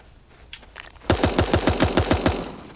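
Rapid burst of automatic gunfire from the video game Super Animal Royale, about ten evenly spaced loud shots fired in quick rhythm after a few softer sounds, with no talk over it.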